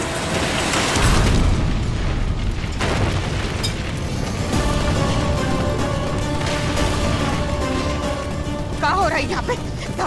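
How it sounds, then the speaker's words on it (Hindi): Explosion blast: a heavy boom followed by a rumbling, crackling aftermath and scattered debris, loud and close, with dramatic music tones rising near the end. "धमाका कैसा था यार?"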